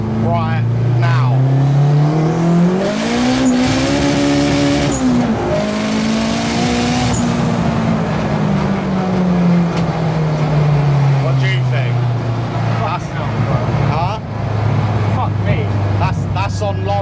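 Turbocharged Honda Civic Type R with a five-speed gearbox, accelerating hard in second gear on low boost: loud engine revving that climbs and holds a steady drone, heard from inside the car with someone talking over it.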